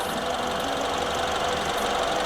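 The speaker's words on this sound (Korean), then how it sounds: "엔진 소리 잠시 한번 들어보시고요" A BMW 320i engine idles steadily up close, a continuous low hum with a faint rhythmic ticking, unchanging throughout and no talking.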